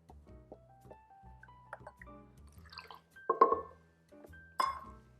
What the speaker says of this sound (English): So we're gonna use ½ cup of almond milk.